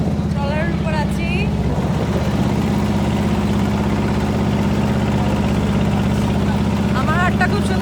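A trawler's engine runs in a steady, loud, low mechanical drone that continues unbroken, while voices chirp briefly near the start and end.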